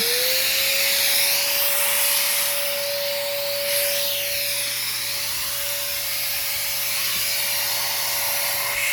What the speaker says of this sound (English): I'm gonna start the vacuum.